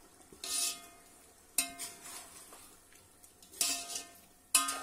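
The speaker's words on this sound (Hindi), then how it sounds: "दही के साथ 3-4 मिनट भून लेंगे।" Mutton browning with yogurt in a pot over a full flame, a soft steady sizzle broken by several sharp bursts of stirring and scraping, close by with no talk.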